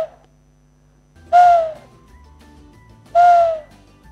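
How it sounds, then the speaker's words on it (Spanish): Two owl hoots sound in a quiet night forest, each a single clear, falling call, about two seconds apart, standing alone over faint background hiss. "Y también les encantaba escuchar el canto de los búhos."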